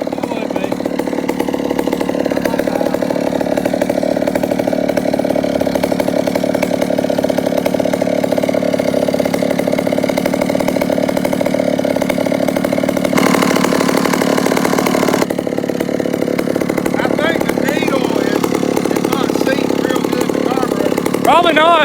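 Chainsaws run continuously at close range, a loud buzzing two-stroke drone that holds steady with a brief surge in pitch and intensity midway, and a voice is heard over the engine noise.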